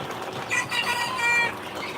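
Original Tiger breed chicken chicks peeping in a cluster, a continuous chorus of high, thin chirps over steady background noise, fairly close and moderately loud.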